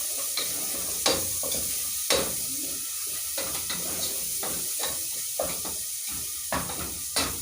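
Onions fry in a pan under a steady hiss of hot oil, with sharp stirring scrapes and clicks every second or so, close by and with no voices.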